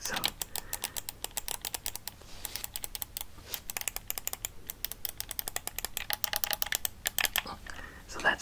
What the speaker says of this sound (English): these triggers as well, these bumpers here, also click, which is not normal for the PlayStation bumpers